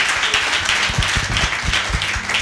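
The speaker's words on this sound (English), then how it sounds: "why clap for Jesus." A congregation claps loudly and densely during a Sunday church service. The close, continuous clapping is mixed with a few deeper thumping beats throughout.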